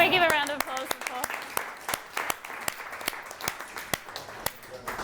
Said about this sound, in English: Can we give a round of applause for Paul?